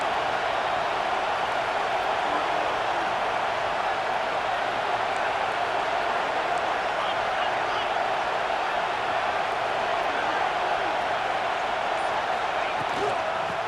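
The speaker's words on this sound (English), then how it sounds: "Here comes second down, and this crowd is turning it up a notch." A roaring football stadium crowd swells during a second-down play in a Stanford versus Washington Pac-12 game, a dense, steady wall of cheering that holds loud and continuous throughout.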